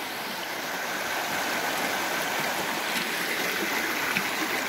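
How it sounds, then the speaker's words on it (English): A small brook flows through a White Mountains forest in New Hampshire, a steady, close and fairly loud rush and babble of water that runs unbroken, with no voices. "But I found this nice little brook here."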